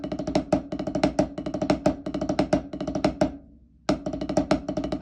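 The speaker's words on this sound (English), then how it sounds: "So then we have the 6-stroke roll" A six-stroke roll rudiment on snare drum, rapid strokes grouped into accented clusters that repeat in a tight, driving pattern, loud and close, with one short pause before the figure resumes.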